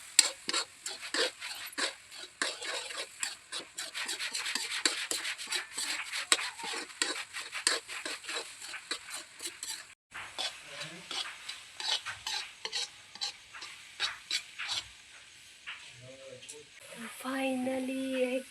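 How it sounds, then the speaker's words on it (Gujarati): A spoon scrapes steadily through halwa cooking in a pan, with continuous rhythmic stirring and soft sizzling close by throughout, pausing briefly partway. "ફાઇનલી 1 કલાક હલાવ્યા પછી આપણો હલવો તૈયાર થઈ ગયો છે."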